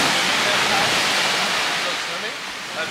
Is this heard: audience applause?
no